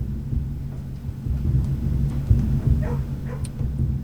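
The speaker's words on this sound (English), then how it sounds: "Why am I hearing dogs barking here?" Several dogs bark and yip faintly in the distance from a kennel in the video game Blue Prince, over a low, steady rumbling background, with scattered barks toward the end.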